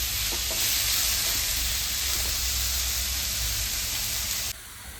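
Tomato masala cooking in a pan for matar paneer, giving a loud, steady hiss of sizzling close up that drops abruptly near the end, with no voices.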